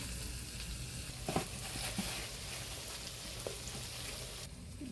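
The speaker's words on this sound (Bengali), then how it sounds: "এখন দিয়ে দেবো রসুন আর পেঁয়াজ তেলের সাথে ভালোভাবে মিশিয়ে নিতে হবে" Garlic and onion frying in oil in a pan while cooking broiler chicken, a steady broad sizzle with a few faint clinks of stirring, fairly quiet and without talk.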